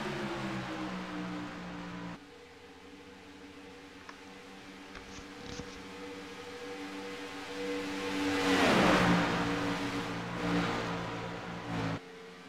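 Stock cars racing in the USRC Firecracker 250, including Chevrolets, with engines droning steadily at the track and one car roaring past loudly near the end.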